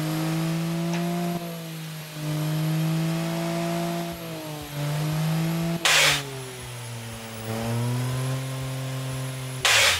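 A Honda 1.0-litre inline-three turbo engine revving repeatedly, pitch rising and falling in swells with sharp bursts between revs, close and loud with no talk.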